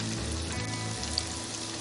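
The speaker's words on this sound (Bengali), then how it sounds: "এবারে আমি একটু একটু করে ঘোরাতে থাকবো, যেন সব সাইড ভালোভাবে" Cauliflower pieces for crispy Gobi 65 fry in hot oil, giving a steady, dense sizzle throughout with no talk.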